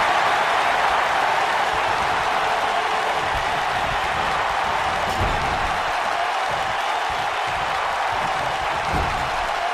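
A large wrestling crowd at a pay-per-view event in Tokyo, Japan cheers and applauds in a steady, loud roar that fills the arena, with a few heavier thuds under the noise.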